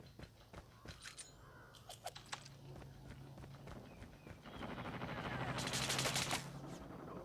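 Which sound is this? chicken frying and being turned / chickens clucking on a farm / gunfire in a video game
gunfire in a video game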